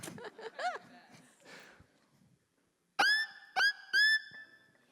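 A person vocally imitates a crazy child-eating bird, letting out a few short, shrill squawking shrieks in quick succession after some murmured talk and a brief pause, close and fairly loud.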